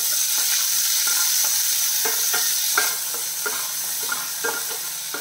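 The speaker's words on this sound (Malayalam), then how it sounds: "നമ്മൾ കട്ട് ചെയ്ത് വെച്ചിരിക്കുന്ന സവാള ഉണ്ടല്ലോ അത് ചേർക്കുന്നു." Sliced onion goes into a frying pan of okra and is stirred: a steady close sizzle of frying runs throughout, with repeated scraping stir strokes at a loose rhythm and no talk.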